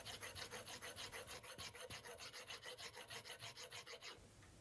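A sharp square file rasps across the steel blade of a screwdriver held in a vise, in quick, even back-and-forth strokes, close and steady for about four seconds before stopping.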